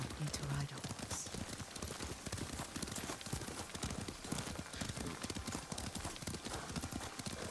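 Horse hooves clip-clop in a steady, rapid rhythm while riding in the video game Ghost of Tsushima, loud and continuous, with voices talking over the gait.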